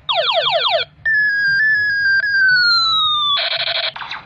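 Bandai DX Gundephone 50 toy gun from Kamen Rider Revice emits electronic effects: a rapid warbling siren-like burst, then a long steady descending tone, then a buzzy pulsing chirp, loud and close with no talking.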